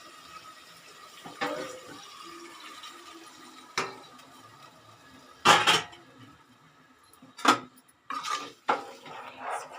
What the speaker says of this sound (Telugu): ఆ నీళ్ళు కూడా దాంట్లో పోసేసుకోవాలి